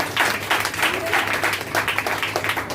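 A church congregation claps together during a Christmas candlelight service, a dense, steady patter of many hands filling the room for a few seconds.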